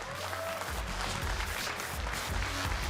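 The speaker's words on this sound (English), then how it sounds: "Give him a round of applause, an amazing performance." A crowd at a Tekken 7 grand final tournament applauds a player, thick sustained clapping mixed with cheering and hall rumble, loud and continuous throughout with a faint voice near the start.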